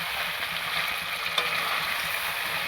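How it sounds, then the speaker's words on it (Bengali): Chicken and potatoes sizzle steadily in a pan, a constant close frying hiss with faint stirring scrapes underneath and no voices. "তো চিকেনের সাথে আলুগুলো একটু কষিয়ে নিতে হবে"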